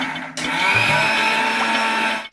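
A mixer grinder whirs loudly and steadily grinding chutney for a couple of seconds, starting abruptly and cutting off at the end, with no talking.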